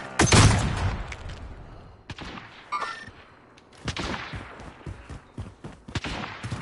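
Gunfire in Call of Duty, including a sharp loud sniper shot at the start followed by scattered fainter shots and metallic clinks.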